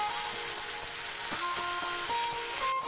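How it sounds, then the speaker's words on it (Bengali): Chicken pieces fry in oil in a frying pan with a steady, dense sizzle, joined by a few light clinks of a utensil, with no one talking. "এখন আমি ভালোভাবে রান্না করে নিচ্ছি চিকেনগুলো।"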